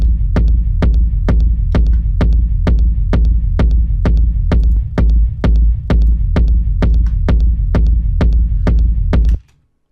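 A steady four-on-the-floor techno groove in the style of Odd Recordings, made in Ableton, driven by a deep, punchy kick drum with a low droning bass, cutting off abruptly at the end.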